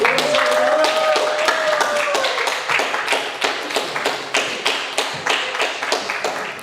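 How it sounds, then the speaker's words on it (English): Applause at the HARLEM WEEK 2025 event, an audience clapping for the organizers: dense rapid clapping that thins into scattered claps by the end, with a brief shout or whistle early on. "can we get a round of applause for your organizers, please?"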